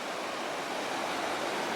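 A river flows near the Yuba River mines, a steady, full rushing wash of water that stays even throughout.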